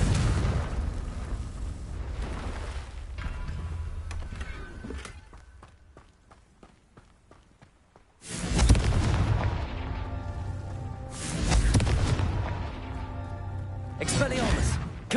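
Confringo fire-spell blasts in Hogwarts Legacy, with booming explosions near the start, then three powerful bursts in the second half, separated by a quieter stretch, with talk mixed in.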